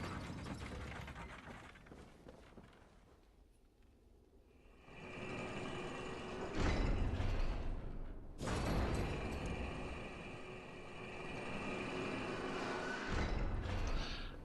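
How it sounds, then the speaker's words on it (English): In the game Bloodborne, a lever is pulled and an elevator moves: grinding mechanical rumbling with ratcheting, creaking gear noise, a quieter stretch, then louder surges of churning machinery, with no talk. "pull the lever to get the elevator"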